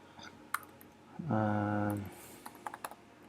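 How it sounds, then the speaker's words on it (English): Light, sparse key clicks from a computer keyboard being typed on at random, close and fairly quiet, with a brief sustained tonal hum in the middle of the burst. "just randomly typing stuff"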